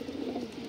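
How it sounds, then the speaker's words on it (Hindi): Punjabi pigeons produce a brief, steady low cooing murmur, alone and fairly faint, with no voices. "ये देखो कबूतर"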